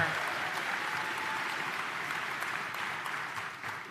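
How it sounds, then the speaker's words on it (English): A crowd at a county address applauds the Henrico High School Band, a moderate, even wash of many hands clapping that sounds somewhat distant and holds steady for a few seconds. "if we can give a quick round of applause one more time for the Henrico High School Band"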